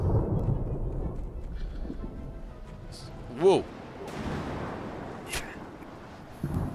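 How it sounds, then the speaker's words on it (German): Thunder in a storm in the survival game Smalland gives a low rumble, then a sharp crack and a few fainter booms, while a player briefly exclaims. "Donner?"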